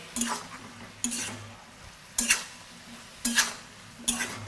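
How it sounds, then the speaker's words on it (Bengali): Rohu fish head and ash gourd fry get stirred in a pan: five separate scraping strokes about a second apart over a quiet low hum, close by and moderately loud, no voices. "তো এভাবে আমি মিক্স করে নিলাম"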